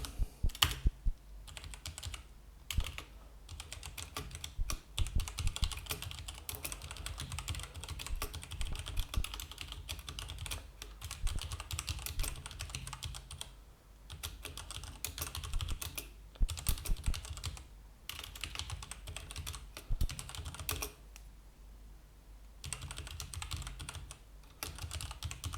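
Steady typing on a computer keyboard while writing code for a small programming task, dense keystrokes clattering continuously with brief pauses, close and clear with no talking.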